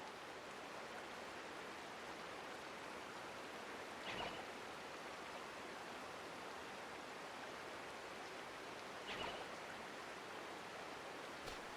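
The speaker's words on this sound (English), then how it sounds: "water just started gushing out everywhere" Water gushes out everywhere in a video game as a steady, faint, rushing wash that runs without a break, with two brief soft thumps beneath it.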